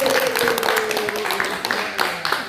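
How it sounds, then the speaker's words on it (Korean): Brief clapping from a small audience at a community talk, quick uneven hand claps mixed with a voice and a sustained tone. "박수 박수."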